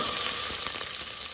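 Onions sauteing in hot oil in a pot for pig feet adobo, giving a steady, close broadband sizzle that holds evenly throughout with no talking.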